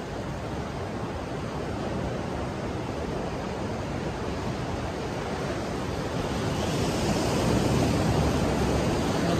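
Cold, clear water at a shoreline gives a continuous broadband wash of small waves, steady and close with a slight swell toward the end, and no voices.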